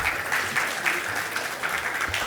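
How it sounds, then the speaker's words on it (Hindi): An audience at an album launch event applauds loudly and steadily, a dense wash of many hands clapping throughout, with no voices on top. "एक बार फिर से ज़ोरदार तालियां हो जाए।"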